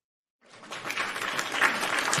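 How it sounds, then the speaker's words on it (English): Applause sound effect played during a live wrestling talk show, a dense crowd clapping that rises quickly from silence and holds steady and loud to the end, with no voices over it. "And applauses."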